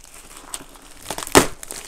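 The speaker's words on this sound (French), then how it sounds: "on va pouvoir commencer par ouvrir le colis" Crinkling and tearing of a stiff, hard-to-open shipping parcel from The Cubicle holding a connected Rubik's cube, with scattered rustles building to one sharp, loud rip near the end, close by.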